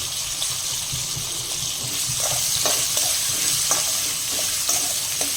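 Potatoes frying in oil in a pan for a Gujarati farali sabudana khichdi, with curry leaves and hot chillies, give a steady close sizzle with scattered scraping stirs throughout.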